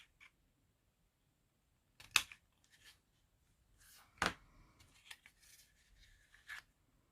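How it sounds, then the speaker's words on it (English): Scissors snipping a small corner off a piece of card, with a few sharp isolated clicks and short crisp cuts separated by quiet gaps, close and soft. "So I'm just going to cut that little corner off there"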